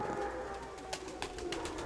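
A pigeon coos softly in a short, quiet burst, with a few faint soft calls nearby and no talking.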